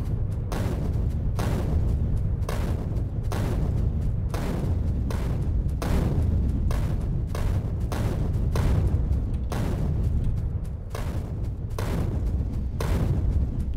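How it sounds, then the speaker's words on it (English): Grenades in Factorio detonate one after another in a steady rhythm, roughly every half second or so: a long run of dull, booming thumps that stay loud and evenly spaced throughout. "nice to have the one-shot grenades now"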